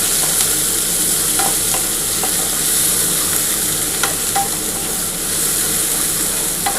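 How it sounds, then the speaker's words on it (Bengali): Onion frying in oil in a pan for a spiced teasel gourd curry: a loud, continuous close sizzle and hiss with occasional light stirring clicks and no one speaking. "পেঁয়াজটা একটুখানি হালকা করে ভাজা হয়ে গেলে তার মধ্যে আমি টমেটোটা দিয়ে দেবো।"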